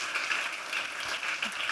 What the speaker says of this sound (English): She deserves a round of applause.